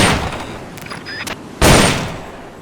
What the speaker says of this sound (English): Select a target and squeeze off a round or two